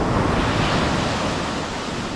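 Ocean waves breaking on a beach where the sea has come close to shore, a loud, continuous wash of surf mixed with wind buffeting the microphone, with no voices.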